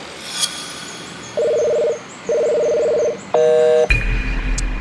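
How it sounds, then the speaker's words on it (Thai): Telephone dialing and call tones: two long steady dual-tone beeps, then a short burst of rapid keypad DTMF tones, followed by an abrupt shift to a noisy line, all fairly loud with no talking. "ลองโทรหากิฟดูว่าเขาทำอะไรอยู่ ทำไมไม่รับสายเนี่ย"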